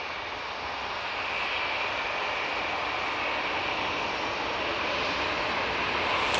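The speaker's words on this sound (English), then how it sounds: "we do have the Eurowings A320-200 coming in from Dusseldorf" A Eurowings Airbus A320-200 arriving from Dusseldorf on final approach into Manchester Airport gives a steady, even jet roar that swells slightly and stays constant throughout, moderately loud and without voices.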